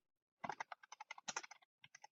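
A computer keyboard being typed on at a quick, uneven pace, with two bursts of close, crisp key clicks separated by a short pause.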